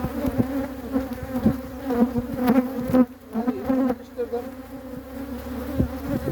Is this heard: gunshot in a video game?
no